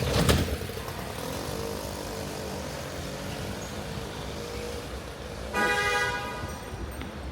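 Busy street traffic in Rabat, Morocco: steady engine rumble from passing cars throughout, with a loud, sustained car horn blaring near the end, fairly close by.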